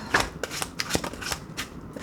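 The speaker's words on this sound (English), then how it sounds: "Alright, we shuffled." A slippery tarot card deck being shuffled by hand, a quick run of crisp riffling card snaps and flutters, close and fairly quiet.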